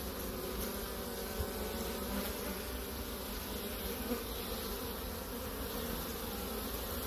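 A steady, dense buzzing of many honeybees flying close by at the hive entrance, a continuous hum with no pauses and no voices.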